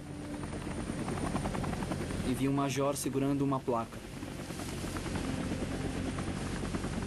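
A Vietnam War-era helicopter gives off a loud, steady rotor drone and engine rumble throughout, while a voice speaks over it in the middle.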